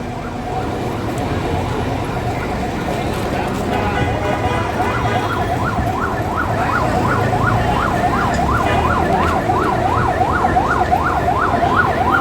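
Ambulance siren wailing on a road closed by protests, rising and falling in a steady repeating sweep that grows louder midway and continues over constant traffic and crowd noise.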